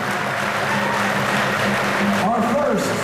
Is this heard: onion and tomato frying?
no